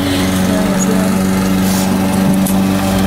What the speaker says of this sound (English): This guy mowing.